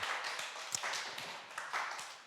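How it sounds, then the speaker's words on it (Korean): A church congregation at an anniversary service claps in a faint, scattered burst of hand claps, a little uneven in rhythm and heard from a distance. "박수 한번 칩시다."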